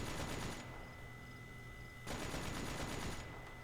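A turret in the video game The Talos Principle fires rapid continuous bursts of automatic gunfire. It opens with a burst, pauses briefly, then fires a second long burst, loud and close, with no voices.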